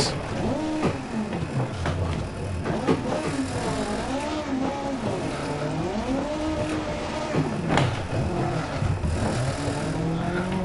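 A damaged rally car engine in DiRT Rally 2.0, a Fulvia, revs up and down continuously, its pitch sweeping through gear changes, loud and close throughout.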